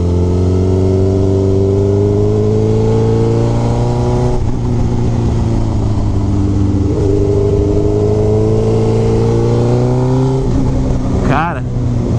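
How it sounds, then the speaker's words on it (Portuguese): A 2004 Suzuki GSX-R 1000 K4 motorcycle being ridden on the road, its engine droning loud and steady and shifting pitch as it accelerates and changes gear, close, with wind rush and a rider talking over it. "que gostoso que é andar nessa moto aqui"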